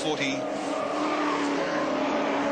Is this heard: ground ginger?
no